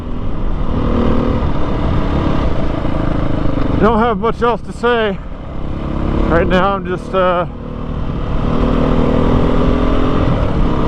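A Beta motorcycle engine drones steadily while riding, with someone talking briefly over the continuous road and wind noise.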